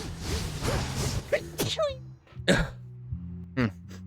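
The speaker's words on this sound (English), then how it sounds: "I think I feel a sneeze coming on." A few coughs and throat-clearing bursts end in a sharp sneeze-like blast at close range, with a low hum beneath.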